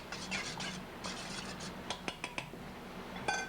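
A spoon stirs a mixture with soft scraping sweeps, followed by a quick run of light clinks against the bowl, close and fairly quiet.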